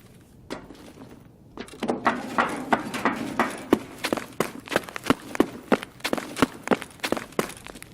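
Quiet at first, then a run of brisk, loud footsteps in Escape from Tarkov heard through a ComTac 2 headset, with a crisp, close impact on each step, picking up a steady rhythm.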